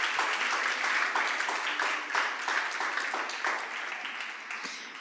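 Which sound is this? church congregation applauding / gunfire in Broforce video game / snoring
church congregation applauding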